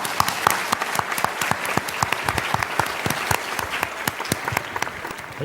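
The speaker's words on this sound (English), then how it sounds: "Let's welcome Professor Lin with a warm applause" Warm audience applause welcoming a speaker at a Hong Kong conference, dense crisp hand claps continuing steadily and fairly loud for several seconds, with no talking over them.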